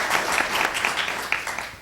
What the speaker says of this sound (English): if we can give a round of applause to our panelists for giving their time today